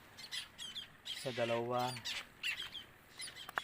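Seabirds at a nesting colony on a rock in the sea give harsh squawks, with one long nasal call standing out, under someone talking nearby and a steady windy background.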